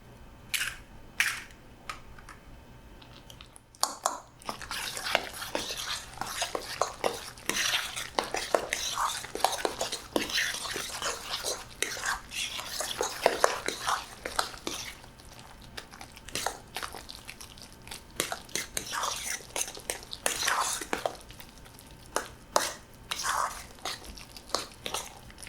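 Eggs being stirred into a fish cake mixture in a bowl, with repeated close clinks and scrapes of a utensil against the bowl, steady and busy throughout with a brief pause early on.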